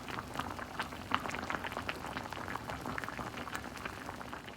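Grapefruit peels boil in a pot of water, a steady bubbling and popping with a constant rolling texture, close and moderately quiet, no voices.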